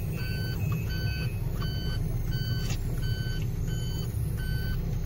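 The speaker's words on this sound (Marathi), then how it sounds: "हा गाडीवाला रस्त्याच्या मध्ये गाडी वळवतो" A truck's reversing alarm beeps steadily in repeated short tones while a vehicle turns across the middle of a highway, over a constant low engine and traffic rumble.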